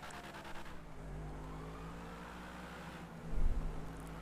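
A car engine in the video game Grand Theft Auto V hums and climbs in pitch as it accelerates, with a louder throaty surge near the end, steady and close.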